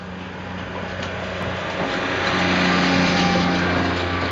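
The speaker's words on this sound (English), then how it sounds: "is really a highway for carts because they cart the people and their boating belongings down to the boats" Small motorized carts run along the cartway of a marina, ferrying people and boating gear to the boats; a steady, high-pitched engine hum that swells gradually as it draws nearer, with no talking.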